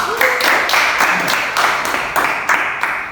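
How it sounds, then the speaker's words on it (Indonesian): A university class gives a student group a round of applause in a teaching-practice session, a few seconds of rhythmic, fairly close clapping from a modest number of people, with some talk underneath. "tepuk tangan buat kelompok 2"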